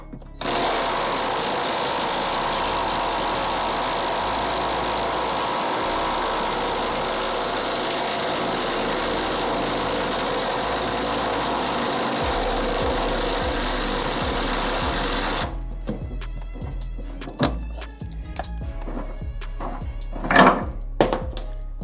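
A pneumatic impact wrench with socket and extension hammers loudly and continuously for about fifteen seconds, removing front suspension nuts. It then stops and gives way to a few scattered clanks and short bursts.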